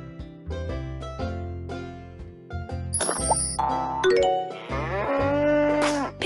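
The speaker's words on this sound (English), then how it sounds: "Cow." A cartoon-style cow moo in a children's animal learning game, sounding over bright chimes and background jingles, with a drawn-out low bellow near the end.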